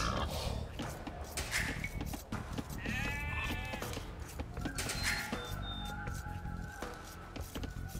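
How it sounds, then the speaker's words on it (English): Sheep bleating inside a video game, a few wavering bleats heard amid busy game noise and background clutter at moderate loudness. "Don't kill that sheep."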